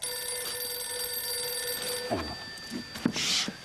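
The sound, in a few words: telephone ringing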